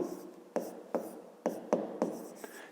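A pen writes on paper during a fifth-grade maths exercise, giving about six short scratchy strokes at irregular intervals, quiet and close, with no voices.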